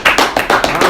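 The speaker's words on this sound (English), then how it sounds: "let's do a round of applause" A handful of sharp hand claps in quick, uneven succession, loud and close, with no voices over them.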